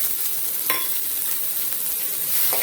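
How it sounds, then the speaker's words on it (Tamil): Dried red chillies, chopped shallots and urad dal sautéing together in hot oil for spinach poriyal, giving a steady close sizzle with faint stirring scrapes and no voices. "எல்லாத்தையும் சேர்த்து நல்லா வதக்கிக்கலாம்."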